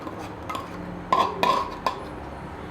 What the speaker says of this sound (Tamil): இதை நம்ம இந்த மோரில் கலந்துக்கலாம்.